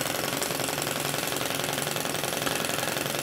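Twin Nick flame-eater vacuum engine running steadily, a dense, fast, even rattling chug that stays at the same level throughout, close by and alone.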